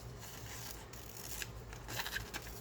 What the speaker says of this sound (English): So I'm just gonna cut around the words.